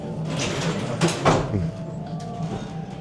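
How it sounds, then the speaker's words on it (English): A sliding door at a holiday haunted attraction rumbles open into a restroom with a mechanical whoosh midway, over steady background hum and faint distant chatter. "Our door magically opened, and we are greeted into a restroom."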